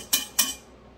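A wire whisk turns in a bowl of stiff meringue for macarons, making two quick scraping taps against the bowl, close and brief, then quiet, with no speech.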